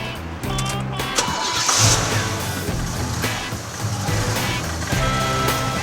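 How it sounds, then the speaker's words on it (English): A car engine whose carburetor is fed hydrogen from a fuel cell cranks and catches, then runs loudly and roughly with uneven sputters and bursts for several seconds, close by. "But will the car even start?"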